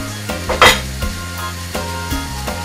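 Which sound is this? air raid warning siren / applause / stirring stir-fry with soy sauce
stirring stir-fry with soy sauce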